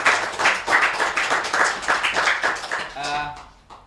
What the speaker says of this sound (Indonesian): tepuk tangan sekali lagi untuk Bu Dinda